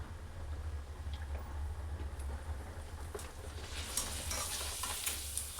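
Horse gram papad frying in hot oil, a steady close sizzle and bubbling with faint crackles throughout.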